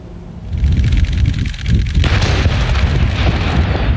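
A landmine blast test on a mine-resistant military boot developed at Gaziantep University: a loud, close detonation bursts out after a rumbling lead-in, followed by a sustained roaring wash of noise that fills the rest of the moment.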